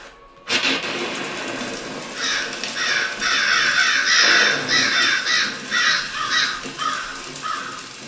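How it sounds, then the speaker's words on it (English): A crow cawing as a sound effect inside an immersive horror exhibit at the Mystic Museum: a series of loud, harsh caws in quick bursts that follow a sudden onset and fill most of the stretch. "It's like the bat signal, but yes. a crow."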